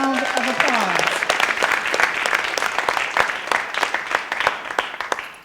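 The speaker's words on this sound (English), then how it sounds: "Give her a round of applause." An audience at a birthday celebration applauds, clapping briskly with distinct individual claps, while a tone sweeps in at the start and the applause tapers off toward the end.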